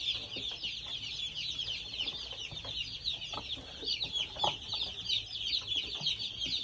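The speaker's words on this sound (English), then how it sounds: "all of these are Cornish crosses, or at least they should be" A brooder of Cornish cross chicks keeps up dense, continuous high peeping close by, with scattered soft scratches and bumps underneath and no talking.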